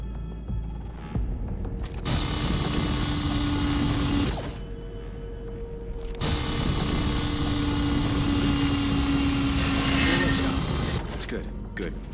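A power drill bores through a hydraulic seal in the video game Call of Duty Ghosts, a loud continuous mechanical whine in two long bursts with a brief pause between, heard with game ambience around it.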